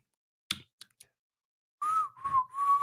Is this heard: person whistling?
yes